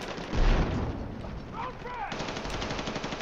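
Light machine gun fire in a Battlefield-style multiplayer shooter, bursts through a wall amid other battle noise, close and loud with voices talking over it.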